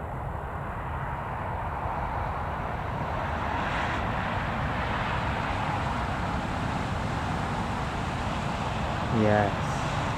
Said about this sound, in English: I'll watch Aer Lingus take off first